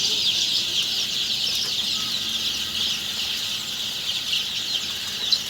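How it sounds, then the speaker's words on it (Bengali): Tiger-breed chicks, along with colour-bird and Sonali super hybrid chicks around eight to twelve days old, make a dense, continuous chorus of high peeping and clucking that fills a poultry farm steadily throughout, with no talk. "অরিজিনাল এ গ্রেডের টাইগার মুরগির বাচ্চা কালার বার্ড মুরগির বাচ্চা সোনালি সুপার হাইব্রিড"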